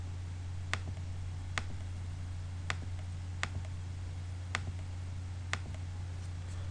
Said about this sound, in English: I type Python 3